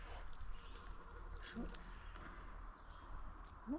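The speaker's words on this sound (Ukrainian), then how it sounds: "Тільки комарі тут кусаються" Mosquitoes buzz in a Canadian forest during mushroom picking. Their faint, thin whines drift in and out close by over quiet woodland background, and soft voices may be present.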